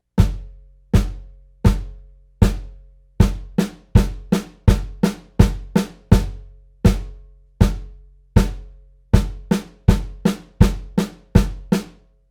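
Drum set lesson groove of quarter notes mixed with beamed eighth-note pairs, sharp loud hits with quick decay in a steady pulse, some beats doubled, played alone without talking.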